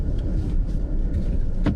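A Toyota RAV4 Prime backs out of a parking spot in EV mode. The cabin is filled with a low, steady rumble of tires and road noise, with no engine note and a faint click near the end.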